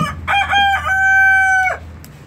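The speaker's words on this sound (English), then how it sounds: "The rooster is upset." A rooster crows once, a loud drawn-out call with a rising start and a long sustained middle before it trails off.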